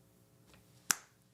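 A single sharp finger snap rings out cleanly after a moment of near quiet, with a brief decay and nothing else around it.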